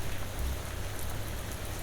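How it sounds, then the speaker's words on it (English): Steady, dense rain falls in a video game, a broad unbroken hiss with no distinct drops or talking. "The rain kept getting heavier."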